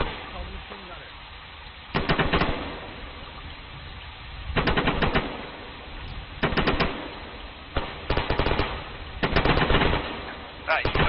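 Machine-gun fire during a platoon training exercise in a stiff wind, loud sustained bursts of automatic shots repeating several times with short gaps, and a voice heard faintly in between.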